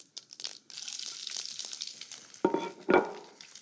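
Green chillies drop into a hot frying pan with toasted chana dal for upma, crackling and sizzling in quick bursts, with louder spits of stirring near the end and no talk.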